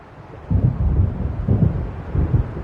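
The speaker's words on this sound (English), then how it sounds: "It seems there's a storm coming." A rolling thunderstorm in the video game Alan Wake Remastered, with deep rumbling bursts of thunder arriving in three swells against a steady windy, rain-like wash, loud and close throughout.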